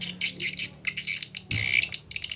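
A recorded swiftlet mating call, used to lure birds into a hexagonal swiftlet house, plays as rapid, high-pitched twittering chirps in quick bursts, bright and close with brief pauses.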